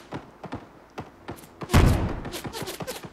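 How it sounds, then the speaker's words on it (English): Grenades detonating in the Lyra Starter Game, an Unreal Engine 5 open-world shooter: a series of soft thuds and taps builds to one loud, close blast followed by a rumbling, crackling tail. "Hitting them with grenades, man."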